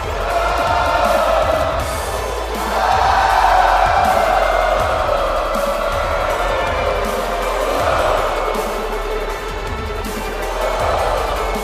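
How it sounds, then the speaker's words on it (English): A large wrestling arena crowd in a WWE 2K22 video game roars continuously with loud cheering and shouting, swelling and dipping in waves, dense and sustained throughout. "Listen to that crowd go wild."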